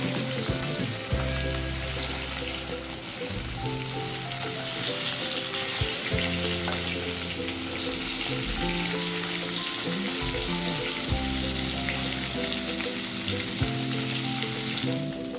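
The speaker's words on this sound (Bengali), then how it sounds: "আমার মাছ ভাজা প্রায় শেষ" Tilapia pieces fry in hot oil in a pan with a loud, dense, continuous sizzle and crackle that holds steady throughout. Occasional scrapes and clinks of stirring break through, and no one speaks.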